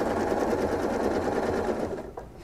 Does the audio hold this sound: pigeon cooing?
no